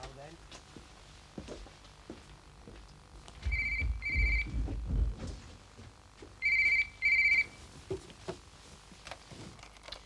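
A telephone bell rings in two bursts of double rings, clear and fairly near, over a low background rumble with some indistinct voice and movement noise between the rings.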